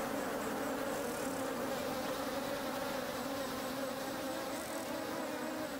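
Honeybees buzzing among flowers outdoors, a steady layered drone of many wings humming continuously at moderate distance, with no voices.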